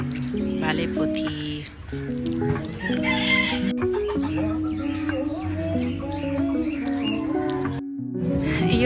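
Roosters at an urban farm near Tokha, repeated loud crowing and clucking close by, with people talking over the birds.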